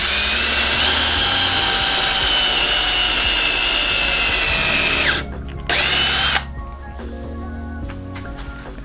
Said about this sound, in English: And just drill a hole into it.